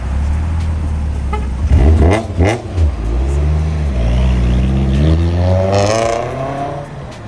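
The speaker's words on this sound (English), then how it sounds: "Hey, little Miata." Mazda Miata driving by on a highway near Cambridge, heard from inside a moving car as engine noise swells and a passing vehicle rushes past over a steady road rumble.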